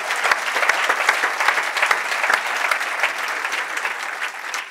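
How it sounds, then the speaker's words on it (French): An audience at a French business awards ceremony applauds steadily and loudly throughout, a dense, continuous round of clapping with no break. "Et vous avez raison de les applaudir déjà."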